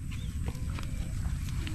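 Carabao, a water buffalo, walking on a small farm plot with its hooves clopping in a soft, steady rhythm under a constant low rumble of background noise.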